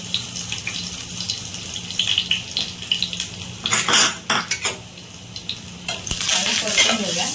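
Chopped garlic and asafoetida sizzle in hot oil in a pan for a Malvani red-paste mackerel curry, with steady frying hiss, clinks of a spoon or utensils against the pan and a brief splash of water near the end.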